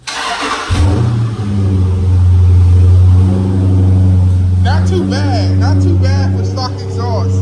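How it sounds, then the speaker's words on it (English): A Dodge Charger SRT 392 V8 with stock exhaust cold-starts, cranking and firing at about the one-second mark, settling into a loud, deep idle with a steady rumble as voices talk over it near the end. "let's give it a little cold start on the 392."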